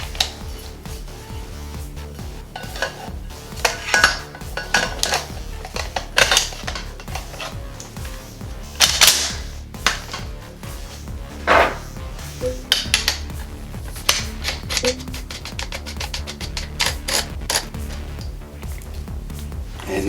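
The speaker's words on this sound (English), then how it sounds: "Let's go ahead and put the barrel back on." Metal parts of a pump-action shotgun fitted with a Streamlight TL Racker light knock and click together as the barrel goes back on, a run of close, sharp clacks and rattles spread over the whole stretch.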